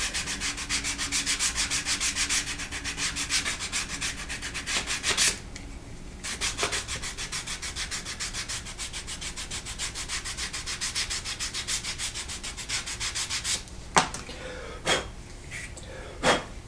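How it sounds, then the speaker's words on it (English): Rough sanding along the stitched edges of a handmade leather card sleeve, a steady rapid scratchy rubbing for several seconds, a brief pause, then more rubbing ending in a few separate strokes, close and fairly loud. "Do some rough sanding."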